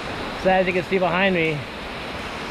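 A waterfall at Raven Cliff Falls in North Georgia gives a steady, broad rushing roar from nearby, with a person speaking briefly over it.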